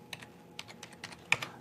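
Someone types on a computer keyboard, with a quick scatter of light, close key clicks in uneven bursts against a quiet background.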